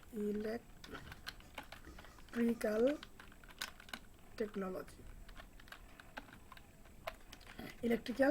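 Someone types on a computer keyboard in short, irregular runs of crisp key clicks. A voice talks in snatches between and over the clicks, in a quiet room.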